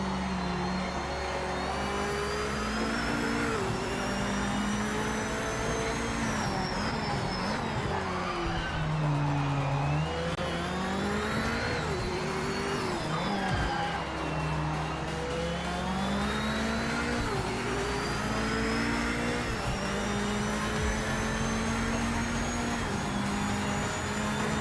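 Race car engines in the sim racing game Project Motor Racing, loud sustained revving that rises and falls through gear changes, with tire squeal and several cars close together.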